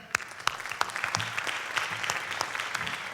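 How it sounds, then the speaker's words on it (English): At a high school jazz concert, the audience applauds a baritone saxophone soloist with a modest, uneven patter of clapping, several distinct claps popping out close by above the softer crowd. "Let's give Nick a round of applause"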